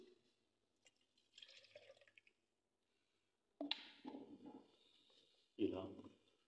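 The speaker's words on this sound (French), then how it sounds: "elle est concentrée, j'ajouterai de l'eau" Water is poured into a concentrated zinc sulfate solution for a Daniell cell, giving short liquid trickling and dripping bursts close by, with pauses between pours.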